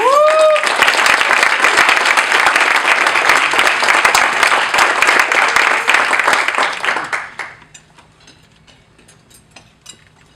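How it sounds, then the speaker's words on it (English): An audience at an opening-remarks event gives a loud, sustained round of applause for a group of kids, dense clapping lasting about seven seconds before fading quickly to near silence. "I want everyone please give the kids a round of applause"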